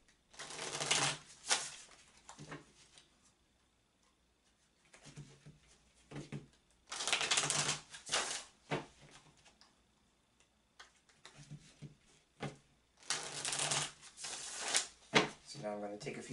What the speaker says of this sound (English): take a few moments to shuffle the cards my other way